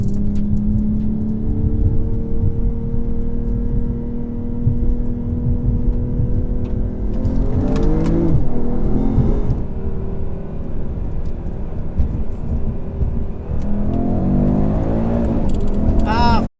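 The tuned engines of a 450 hp BMW M240i and a 460 hp Audi RS3 drone loudly and close, then rev hard with rising and falling pitch as they hit the limiter. Someone speaks over the engine noise.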